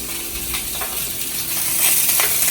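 Italian sausages frying in a pan give off a continuous close, hissing sizzle that swells slightly toward the end, with no voices.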